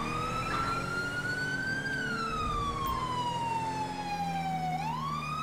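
A police car siren in GTA 5 wails steadily, its pitch slowly rising and falling in long sweeps, loud and continuous with a faint engine rumble underneath.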